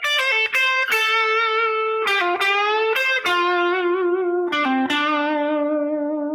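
An electric guitar with distortion plays melodic phrases, notes bending and sliding down, each lick ending on a sustained, ringing tone.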